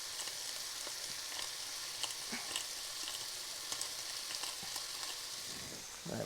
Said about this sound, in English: I'm just going to fry it up with some onions.